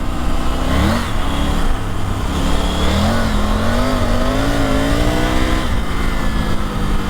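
A Triumph Tiger 900 Rally Pro motorcycle on stock tyres revs loud and close, its engine pitch rising and wavering as the rear wheel spins for traction, continuous with no talk.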